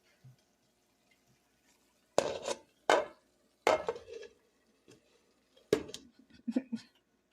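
A lid set down over a pan of wild mushrooms frying in a kitchen: a few distinct metallic clanks and clatters, close and fairly crisp, separated by quiet gaps with a faint sizzle underneath.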